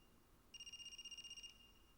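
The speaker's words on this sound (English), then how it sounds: "Is that a phone ringing?" A phone rings in the AI: The Somnium Files video game, a single faint electronic trill of rapid pulses lasting about a second against a quiet background hum.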